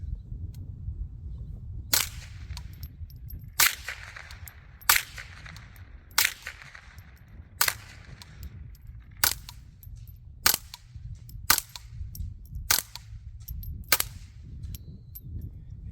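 Ten suppressed .22 LR shots, a mix of supersonic and subsonic rounds, from a Tippmann Arms M422 rifle fitted with a SilencerCo Spectre, sharp cracks spaced about one to two seconds apart over a low outdoor rumble.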